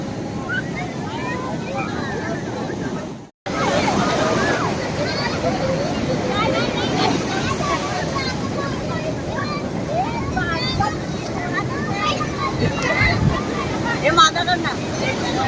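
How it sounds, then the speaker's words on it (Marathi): Loud surf of large sea waves at Ganpatipule beach rolls and crashes continuously with wind buffeting the microphone; voices come through now and then. "खूप खूप खूप जास्त मोठ्या लाटा येतात"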